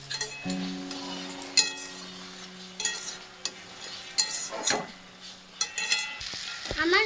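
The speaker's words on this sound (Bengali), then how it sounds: "এবার আমি নেড়ে নিচ্ছি।" A spatula stirs curry in a pan, producing repeated scraping strokes and occasional clinks over a faint background sizzle, close and irregular in rhythm.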